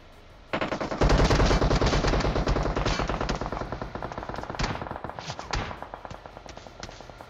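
In PUBG Mobile, loud bursts of rapid automatic gunfire rattle on for several seconds, dense and continuous with brief dips between volleys.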